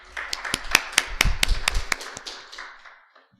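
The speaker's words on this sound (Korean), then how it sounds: "다 같이 박수로 맞아주시기 바랍니다" A small group claps briefly to welcome a keynote lecturer at a Korean social trends forum. The sharp, separate handclaps sound close and moderately loud, then quickly thin out and stop.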